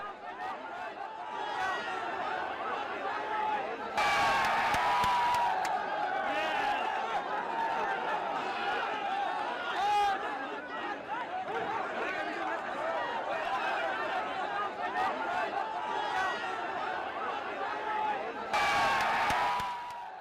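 Crowd in Jaipur mobbing the Cockroach Party founder, a dense roar of shouting voices and chatter with louder bursts of yelling, continuous for about twenty seconds.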